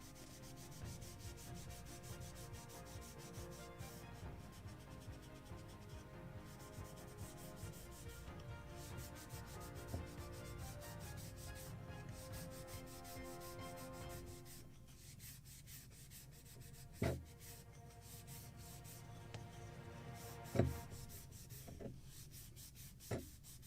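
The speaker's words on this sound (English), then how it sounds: "Even use some Scotch-Brite scuff pads." Steady, faint scratchy rubbing as wood on a model boat kit is scuffed by hand with a Scotch-Brite scuff pad for a long stretch, then it stops and a few light knocks follow.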